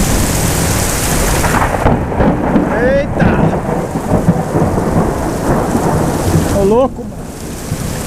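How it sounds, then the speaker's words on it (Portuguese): Heavy rain pours steadily during a thunderstorm while thunder rumbles loudly beneath it, and a man gives a couple of short exclamations over the downpour. "É a guerra dos trovão aqui, a guerra da tempestade."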